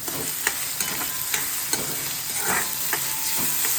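Onions roasting in a pan for Mysore dosa, a steady close frying sizzle broken by regular scraping and stirring strokes of a spatula, with no voices.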